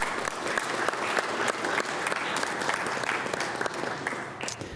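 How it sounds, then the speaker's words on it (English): Attendees at a Bloomington city council deliberation meeting break into sustained applause, many hands clapping in a dense, even wash that holds steady for several seconds in the room. "I just want to give us all a big round of applause right now."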